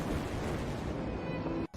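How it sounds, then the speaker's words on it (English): An explosion at the Beirut port, heard in a news recording as a dense, sustained roaring rumble that fills the sound for nearly two seconds before cutting off abruptly. "Blasts that shook a city and injured thousands."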